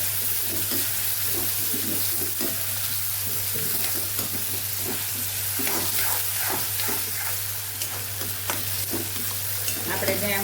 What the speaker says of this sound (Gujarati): ટમેટા પાકી જાય ત્યાં સુધી આપણે આને સાતળવાનું છે